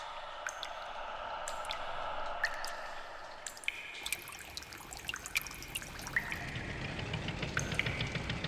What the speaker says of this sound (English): the drop of water splashes into a pool of water